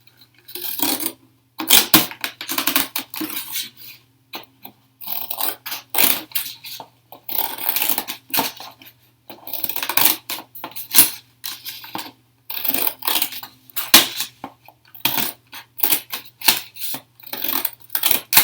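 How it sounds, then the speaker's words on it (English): Scissors snip through a thin metal pie plate in a long run of short, sharp metallic crunches and clicks, irregular and close, with brief pauses between bursts of cuts. "you can get your scissors to cut through the middle of your pie plate"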